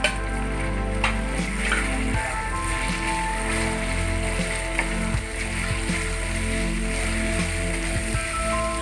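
Small chicken cubes sizzling in a pan after being added to browned onions, a loud, steady crackling fry with occasional sharper pops.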